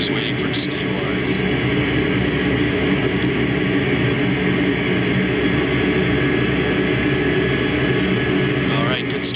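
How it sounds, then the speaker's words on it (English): Engine number 2 of a jet airliner spooling up in a home-built flight simulator, a loud continuous roar and whine that holds steady throughout. "Alright, good start on engine number 2"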